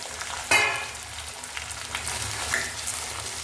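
Okra and tomato sautéing together in a pan for moong dal sambar, giving a soft steady sizzle with a louder splash of frying near the start and faint stirring scrapes.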